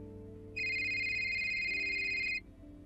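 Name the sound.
phone ringing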